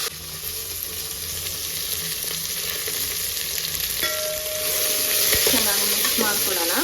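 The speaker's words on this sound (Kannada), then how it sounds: "ಈ ಕಡೆ ಆನಿಯನ್ ಎಲ್ಲ ಫ್ರೈ ಆಗಿದೆ. ಇದಕ್ಕೆ ನಾವು ಕಟ್ ಮಾಡಿರೋಂಥ ಹೀರೆಕಾಯಿ, ಬೆಂಡೆಕಾಯಿ, ಬದನೆಕಾಯಿ ಕೂಡ ಕಟ್ ಮಾಡಿ ಹಾಕ್ಕೊಳ್ತೀನಿ" Ridge gourd, okra and brinjal frying with onions in a pan, giving a steady close sizzle with stirring and scraping sounds that grow a little louder toward the end.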